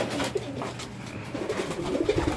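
Pigeons coo softly and repeatedly at close range, low burbling calls scattered across the moment over a steady background hum.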